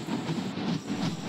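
Cholan Superfast Express rolling into Chidambaram station, a steady, fairly loud low rumble of railcars with faint rhythmic wheel clatter and no talking.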